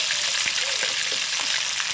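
Frozen fish frying in a hot pan of oil at home, a steady loud sizzle and crackle throughout with a few sharper pops, no talk.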